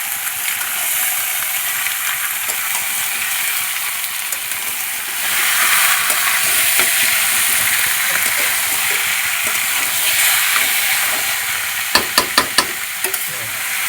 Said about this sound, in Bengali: ভালো করে মশলার সঙ্গে চিকেন কষিয়ে নেব।